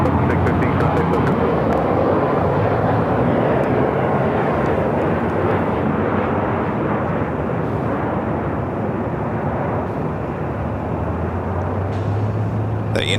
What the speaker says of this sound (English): Again, that Dreamliner coming in from Newark.